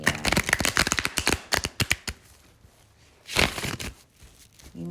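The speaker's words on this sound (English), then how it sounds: "I'm still shuffling because I ain't shuffled these other cards in a minute." Tarot cards are shuffled in rapid riffled bursts, a crisp flurry of close snapping clicks for about two seconds, then a pause and a second shorter rustle of cards.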